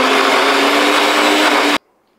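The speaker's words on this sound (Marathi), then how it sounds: "याला आपण मिक्सरमध्ये फिरवून घेऊ" A kitchen mixer grinder whirs loudly and steadily while blending soaked barnyard millet with half a boiled potato, then stops abruptly into silence.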